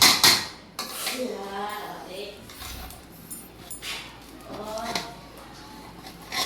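Food is stirred in a cooking pot in a home kitchen, with intermittent metallic scraping and clinking of utensils against the pot while people talk over it.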